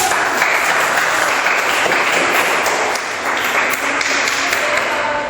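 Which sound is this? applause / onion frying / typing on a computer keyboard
applause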